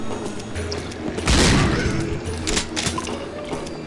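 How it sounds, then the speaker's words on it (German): A shotgun firing in the zombie shooter video game Land of the Dead, one loud booming blast followed by a few smaller impacts and clatters against a steady game background. "ich werde jetzt gleich meine Schrotflinte benutzen"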